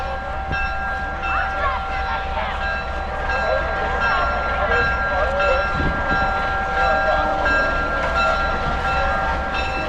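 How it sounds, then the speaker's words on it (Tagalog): A train rumbles steadily at Aspen Crossing Campground, a loud continuous rolling drone with a sustained tonal hum, while people talk nearby. "Ito yung train dito."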